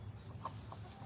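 Chickens inside a coop give a few soft, distant clucks over a low background hum, faint and brief.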